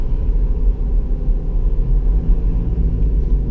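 A 2018 Toyota Fortuner with automatic transmission drives along, its cabin filled with a loud, steady low rumble of engine and road noise with no distinct gear changes standing out.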